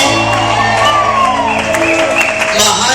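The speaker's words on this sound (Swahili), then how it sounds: "Piga Yesu Kristo shangwe na nderemo jamani" A church congregation cheers and claps loudly in a sustained roar, with shouts and whoops rising over the crowd and voices mixed throughout.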